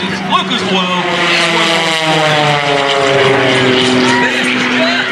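A Lucas Oil aerobatic propeller airplane performs at the 2019 Westmoreland County Airshow, its engine droning loud and continuous, rising and falling in pitch as it passes.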